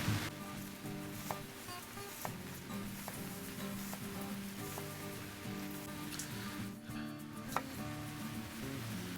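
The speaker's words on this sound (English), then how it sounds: "we're gonna start with one apple. And then what we're gonna do is we're gonna slice it into" Knife slicing an apple into thin slices on a board, a soft run of small, fairly regular cuts close by and quiet, with no talking.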